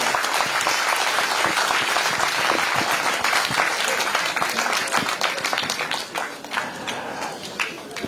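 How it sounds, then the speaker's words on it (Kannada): Applause from a large audience greeting honoured Booker Prize-winning writer Banu Mushtaq on her homecoming, a dense steady roar of many hands that thins slightly toward the end. "ಭಾನು ಮೇಡಮ್ ಅವರಿಗೆ ಮತ್ತೊಮ್ಮೆ ತಮ್ಮೆಲ್ಲ ಜೋರು ಚಪ್ಪಾಳೆ ಬರಲಿ"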